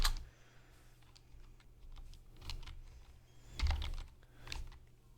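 Someone types code on a computer keyboard, a quiet, close series of uneven key clicks in small clusters with short pauses between them, heard alone without talk.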